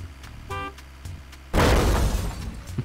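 A car horn blares in short toots in the game Totally Reliable Delivery Service, followed by a loud crash and shattering glass as the vehicle hits something.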